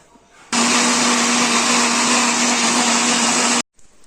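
A kitchen blender runs steadily for about three seconds, whirring loud and close as it mixes a mango mastani blend of mango and milk, then cuts off abruptly.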